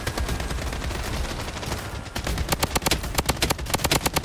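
Gunfire in the video game Blood Strike, at first a dense roar of overlapping shots, then rapid distinct automatic bursts with sharp regular cracks, loud and close.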